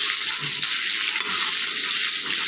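Fried okra and potatoes with roasted coriander are stirred together in a hot pan, giving a steady, close sizzling hiss with faint scraping of the spoon underneath.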